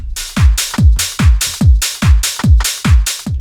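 A punchy speed garage drum loop with heavy booming kicks and bright crisp hats, repeating in a steady shuffling groove, loud and upfront with no voices.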